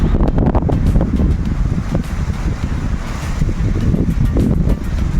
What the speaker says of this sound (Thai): ตอนนี้เราเดินขึ้นมาดอยผาตั้งลมแรงมากเลย